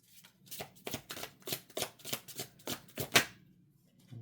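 A deck of tarot cards is shuffled by hand in close, rhythmic riffles, about ten crisp papery bursts in quick succession ending with a sharp snap, then quiet.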